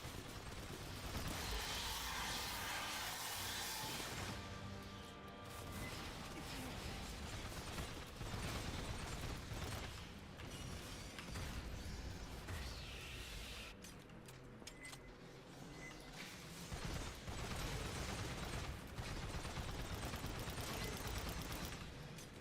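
Sustained automatic gunfire from the video game Aliens: Fireteam Elite, dense and loud with rapid bursts and mechanical clatter running almost continuously, overlapping game effects and no clear talk.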